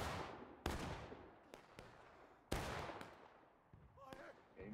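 Musket volleys in the Civil War game War of Rights, several sharp reports at irregular intervals, some close and loud, others farther off, each with a rolling echo, over faint background voices.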